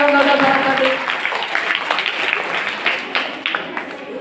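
Quiz show audience applauding, a dense wash of clapping hands that starts full and gradually thins out, with scattered claps toward the end.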